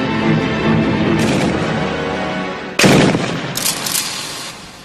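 A Kord 12.7 mm heavy machine gun fires in loud, sharp bursts at a firing range, with a heavy rumbling volley early on and a much harder, abrupt burst midway that rings out and decays.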